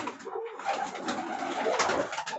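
Aggressive high-flying pigeons in a loft give a continuous, fairly close cooing and rustling murmur, with no talk over it.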